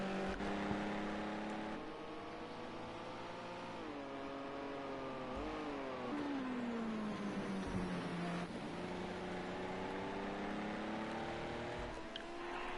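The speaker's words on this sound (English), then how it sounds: "This car now comes out this corner now." A Group 5 racing car accelerates out of a corner at Watkins Glen, its engine note holding loud and steady, dipping then climbing in pitch through the gears for the full stretch.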